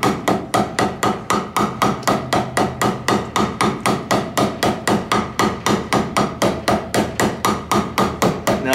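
A trailer wheel bearing race is hammered into its hub with a steady run of sharp metallic blows, about four per second, loud and close with no talking.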